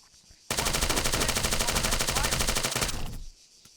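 Sustained automatic gunfire in the ACM combat training game, a rapid, even burst of shots lasting about two and a half seconds, loud and close, starting abruptly and cutting off cleanly.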